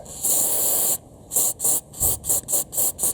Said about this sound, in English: silicone spray on the actual seal itself